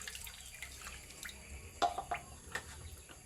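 A glass of water poured into a cooking pot, heard as a few short splashes and drips over quiet background hiss, close and fairly faint.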